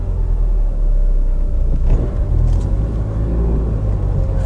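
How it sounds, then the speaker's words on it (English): An old Citroen Saxo engine drones with a low, steady rumble from inside the moving car, swelling slightly midway as it drives. "First time driving the old Saxo, try not to stall it."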